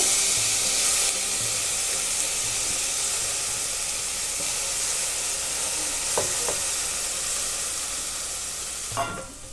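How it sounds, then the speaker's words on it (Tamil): Red lentils, carrot and potato sautéing in a pan for a Lebanese lentil soup, a steady sizzle with stirring throughout, with a couple of utensil scrapes near the end; no talking. "சேர்த்துட்டு இதையும் நல்லா சேர்த்து வதக்கிப்போம்."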